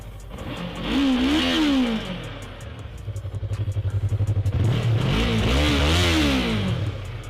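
A Yamaha R3 motorcycle engine, still cold, revs up twice in rising and falling sweeps, with a rough, pulsing idle in between and a loud, close sound.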